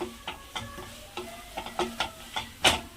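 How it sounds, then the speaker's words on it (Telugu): A spoon stirs fried cashews and raisins through beetroot halwa in a pan, giving a handful of close, irregular scraping strokes over a faint sizzle, with a louder clack near the end. "మనం ఇందాక వేపుకున్నాం కదా జీడిపప్పు కిస్మిస్ ఈ విధంగా వేస్తున్నాను ఒకసారి మొత్తం ఈ విధంగా ఇలా కలుపుతున్నానండి"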